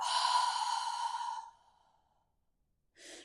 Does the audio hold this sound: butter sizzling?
no